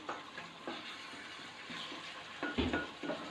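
Masala spices with turmeric and nutmeg-mace powder being roasted in oil and stirred in a pan, a low steady sizzle with soft scraping strokes and a few louder spoon clatters toward the end.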